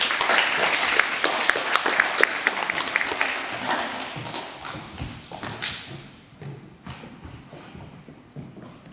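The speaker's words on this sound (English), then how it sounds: "Could you please have another round of applause?" Audience at a public school presentation day claps loudly and steadily, the applause thinning and fading away toward the end.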